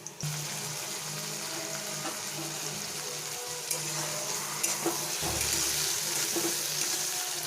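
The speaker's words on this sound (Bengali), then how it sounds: "এখন দিয়ে দেবো আমি টমেটো কুচি" Chopped tomatoes hit hot oil with frying ginger and chilli, giving a steady close sizzle and hiss that continues throughout, with a brief clatter partway and a slightly louder, fuller sizzle toward the end.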